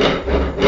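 A hand drill bores into wood with a brief, loud, close grinding rasp that keeps going without a break through the short stretch, and no one speaks.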